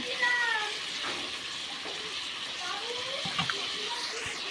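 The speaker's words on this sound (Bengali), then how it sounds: "ফুলকপিগুলো দিয়ে ভালো করে কষিয়ে নেব।" Fried cauliflower florets sauté in a pan as the base of a fish curry, a moderate continuous sizzle with occasional stirring knocks and a voice briefly heard over it.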